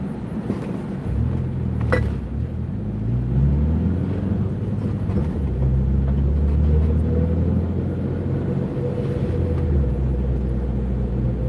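City street traffic in the Bronx, New York: a steady rumble of cars and engines, with one vehicle accelerating and rising in pitch nearby, plus a brief sharp clatter early on, and no talk.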